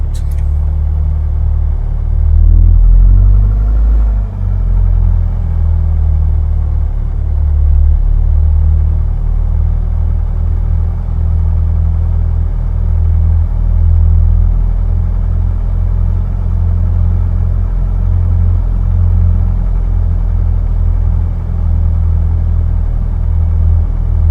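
A Diamond DA40 aircraft taxiing in a flight simulator game, a loud, steady low piston-engine drone that rises briefly near the start and then holds unchanged throughout, with no voices.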